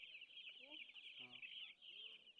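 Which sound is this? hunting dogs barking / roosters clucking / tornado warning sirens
roosters clucking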